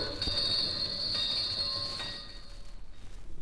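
A recorded train rumbles past at close range with loud metallic wheel squeal and rail clatter, then fades out into a fluttering rattle as it moves away.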